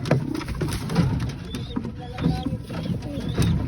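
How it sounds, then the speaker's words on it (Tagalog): Pigeons coo softly in a repeating pattern amid faint mechanical clicks and rustling, close by, with no voices. "Tingnan natin guys yung kalapati ni Boy Dagit, guys."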